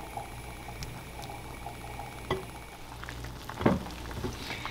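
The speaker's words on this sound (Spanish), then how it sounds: "tienen 1 hora de estar hirviendo, bien bajita la hornilla" Mangoes simmering in sugar syrup with cherries over a very low flame, a steady close bubbling and gentle popping with a few louder bursts, no voices.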